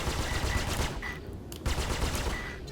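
Spaceship guns firing in the space combat game Space Ace, rapid repeated bursts of automatic fire with a brief pause midway, loud and continuous otherwise.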